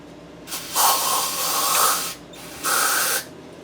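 Aerosol brake cleaner sprayed during a 2007 Chevy 5.3 engine rebuild: two close, loud hissing bursts, a longer one of about a second and a half followed by a shorter one, with nobody talking.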